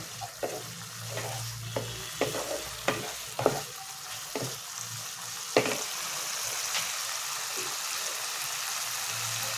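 Onion curry with slit green chillies, for an omelette curry, sizzles in very little oil in a pan, a steady close frying hiss broken by repeated scraping stirs, with no voices.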